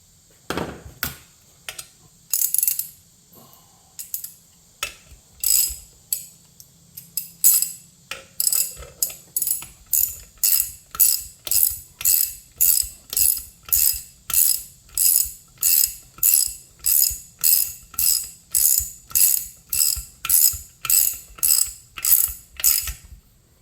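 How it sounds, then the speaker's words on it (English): Rapid ratcheting clicks as a 10mm nut driver works the nut on the carburetor bracket of a Troy-Bilt machine, starting sparse then settling into a long, steady run of evenly spaced crisp clicks up close, no talk. "10mm nut driver. That holds the bracket that holds the carburetor on."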